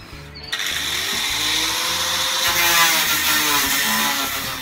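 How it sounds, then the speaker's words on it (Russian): A saw cutting through a wooden blank for a homemade quail cage, a steady rasping drone with a rhythmic low pulsing beneath, continuous and close. "Вот мы отпилили еще одну заготовку."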